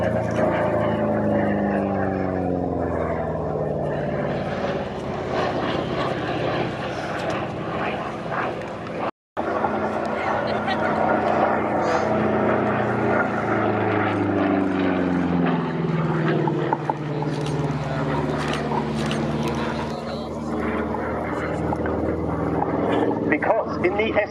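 A Republic P-47 Thunderbolt warbird drones overhead at an air show, its heavy propeller engine rising and falling in pitch as it passes, with an announcer talking over it.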